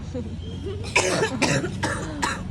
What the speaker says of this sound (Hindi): ये भी खांसी कितनी खा रही